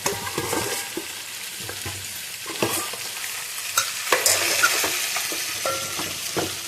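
Fish fries with green chilies in a pan: a soft sizzle runs beneath irregular scraping stirs and clinks, growing busier toward the end, with no speech.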